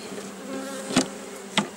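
Bees buzz densely around a beehive after frames from a nucleus box are moved into it, a close, steady drone with two brief knocks on wood.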